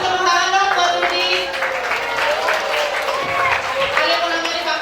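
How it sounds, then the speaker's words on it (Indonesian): Vocational high school students applaud for a classmate in an indoor school activity, quick scattered clapping under cheerful voices and chatter, fairly loud and continuous throughout. "Kasih tepuk tangan dong buat Rudi."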